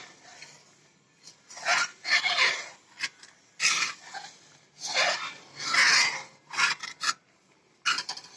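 A spoon stirs thickening rice kheer in a pot, with the side cream being scraped in as it goes: repeated rasping scrapes come in short irregular bursts, close and moderately loud, with quiet gaps between strokes.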